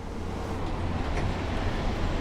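A Class 142 Pacer diesel train in Train Sim World 4 rumbles and grinds steadily under emergency braking, a dense low roar with rattling wheel noise, close and unbroken.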